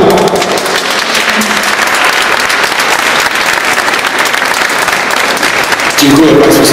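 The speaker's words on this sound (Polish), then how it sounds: "Więc już składacie ręce do oklasków" An audience breaks into loud, sustained applause at a live stage show, dense clapping filling the whole stretch, with a voice rising briefly near the end.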